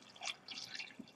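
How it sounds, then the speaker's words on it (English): Water poured into a shaker for a chocolate Cambridge Diet shake, a brief, faint splashing and trickling close by. "So we're going to add the water to the 8 ounce line"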